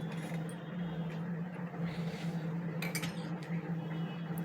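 Serving a home lunch plate of egg curry, fried bora, salad and curd, with soft clinks and scrapes of utensils against the dish over a steady low kitchen hum.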